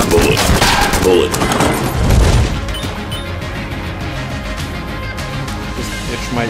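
Rapid bursts of video game gunfire from a homing gun in Enter the Gungeon, dense and loud for the first two seconds, then trailing into quieter music and effects.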